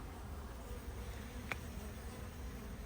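Wasps buzz at a beehive where they are attacking bees, a continuous close insect drone with one brief louder buzz passing in the middle.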